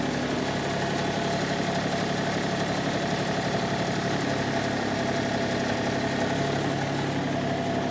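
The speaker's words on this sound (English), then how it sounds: "So I'm going to try to lift it up with the hydraulics and test it." A John Deere tractor running steadily as its hydraulics lift a front-mount PTO snowblower, a constant loud close engine drone with a low throbbing hum throughout, no voices.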